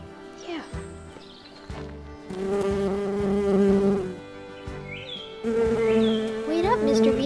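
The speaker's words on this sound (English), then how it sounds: "Wait up, Mr. Bee." Buzzing bee drone, close and fairly loud, rising and swelling in bursts over layered tonal background sounds, with no one talking.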